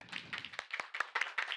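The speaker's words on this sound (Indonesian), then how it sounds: "Tepuk tangan dong untuk Farah" Students in a classroom clap for a classmate, a short burst of close, uneven handclaps lasting under two seconds with no talking.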